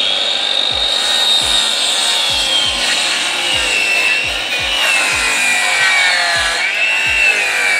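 Hand sawing of wooden planks for siding the facade of a house extension, a loud, steady run of rasping back-and-forth strokes close up, with no voices.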